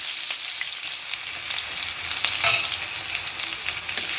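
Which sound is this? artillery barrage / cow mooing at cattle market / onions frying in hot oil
onions frying in hot oil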